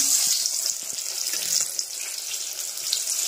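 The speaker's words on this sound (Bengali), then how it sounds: "আর এদিকে মা করছে বেগুন ভাজা।" Eggplant slices fry in a pan with a bright, steady high hiss of sizzling oil, close and continuous, with no voices.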